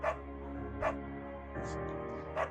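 A beagle barks in the video game Firewatch, a few separate barks spaced across the moment with a steady game background underneath and no talk.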